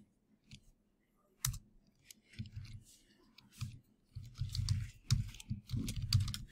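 Computer mouse and keyboard clicks at a desk during coding, scattered sharp clicks and short bursts of tapping, close and moderately quiet, with faint low background noise and no clear talk.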